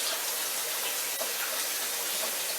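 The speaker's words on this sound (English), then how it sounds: "rinse my hands off after all that molasses and sugar" Tap water runs steadily into a sink as hands are rinsed clean of molasses and sugar, a continuous close splashing gush with no talk.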